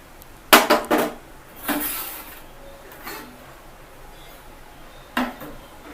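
Chopped onion pieces are dropped into a cooking pot for a rasam, giving a few sharp clattering hits and light knocks against the metal, with quieter gaps between.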